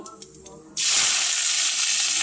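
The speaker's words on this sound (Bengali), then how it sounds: "ফোড়নে দিয়ে দিচ্ছি, এই দেখুন, একটু রাঁধুনি আর একটু কালো জিরে।" Whole radhuni seeds and black cumin hit hot oil for tempering a khoyra fish curry, and after a few light clicks a loud, sudden sizzle erupts and holds as a bright, steady crackling hiss close by.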